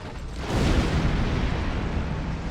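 Charges detonate in the Star Trek Online video game as a single loud, close explosion that swells after a brief lead-in and then rumbles on as a heavy, sustained roar.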